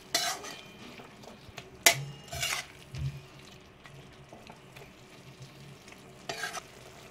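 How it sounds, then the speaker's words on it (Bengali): Grated coconut stirred together with elephant foot yam stems in a hot pan, giving soft scraping strokes and occasional utensil clinks against the metal over a low frying sizzle, close by with no talk. "একটু হালকা সামান্য নাড়াচাড়া করে নিতে হবে নারকেল কোড়াটা দিয়ে।"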